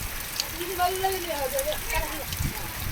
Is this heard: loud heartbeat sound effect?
no